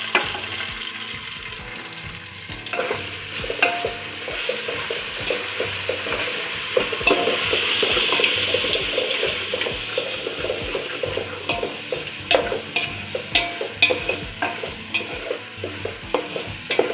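Mutton coated in biryani masala sizzles loudly in a pan, with rapid, rhythmic stirring and scraping strokes close up and no talking.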